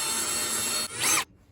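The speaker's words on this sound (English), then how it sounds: "we'll put some pilot holes in there. I believe I used 3/16" A power drill with a 3/16 bit bores pilot holes into a wall for mounting a sprinkler controller, a steady whirring grind that shifts pitch briefly near the end before cutting off.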